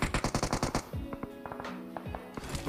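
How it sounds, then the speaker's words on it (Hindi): Rapid automatic gunfire in PUBG Mobile on the Livik map, a quick burst of about eight sharp evenly spaced shots, followed by scattered further shots amid game sounds. "यहाँ पे बहुत ही ज़्यादा फायर आ रहा है"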